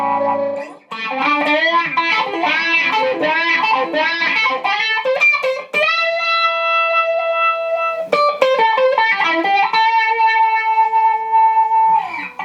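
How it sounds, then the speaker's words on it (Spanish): Electric guitar played through a distortion effect and a wah-wah pedal: a busy, gritty riff of quick notes, then long sustained bent tones with sweeping filtered wah colour, loud and close with no voice. "Ahí escuchamos la distorsión, pisamos el wah y hacemos."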